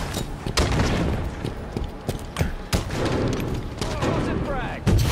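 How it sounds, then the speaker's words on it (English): A Halo 5 multiplayer match fills with continuous gunfire and thudding blasts as a grenade is thrown and detonates amid the shooting, with voices calling out over the loud, dense battle noise. "Throwing a grenade!"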